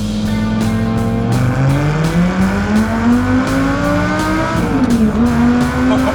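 An early-2000s Lamborghini Gallardo engine revs loudly and close, its pitch climbing through the gears with a brief dip and recovery near the end. There is no talking.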